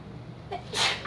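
A single sharp sneeze bursts out close by after a brief inhale, in an otherwise quiet classroom during a trigonometry lecture.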